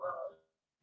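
A single short puppy bark from upstairs, clear and fairly close, followed by silence.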